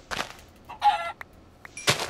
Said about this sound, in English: Oh, chicken. I hear you.